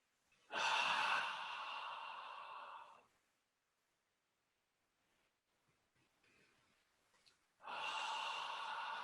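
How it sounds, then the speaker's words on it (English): A person breathes hard with a forceful "ha" in a breathing exercise for anxiety and stress, two long loud rushing breaths separated by several seconds of near silence. "Breathe in with a loud ha."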